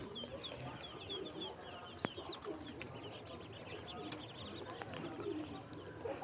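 Pigeons such as Giribaz and Madrai breeds at a bird market in Goyeshpur Golbazar, cooing and fluttering in a dense, continuous chorus with a busy crowd hum beneath and an occasional sharp click.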